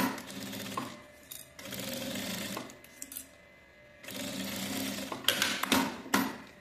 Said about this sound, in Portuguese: vou passar uma costura de segurança